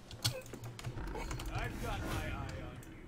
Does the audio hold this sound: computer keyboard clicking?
yes